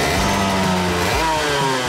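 A go-kart engine runs steadily at a club invitational race, its buzzing two-stroke tone loud and close, with a slight shift in pitch partway through and no voices.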